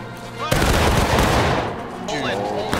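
A musket volley in the Civil War shooter War of Rights erupts as a sudden loud burst of many overlapping shots, trailing into scattered crackling reports and echo.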